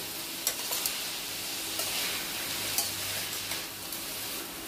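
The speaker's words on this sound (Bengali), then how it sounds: "নুডলসগুলো দিয়ে দিলাম। দিয়ে আবার আমি ওপর নিচ করে ভেজে নিচ্ছি" Noodles are stir-fried in a pan and tossed up and down, a steady bright sizzle with a faint low hum beneath and occasional sharp scrapes and taps of the utensil, close and even.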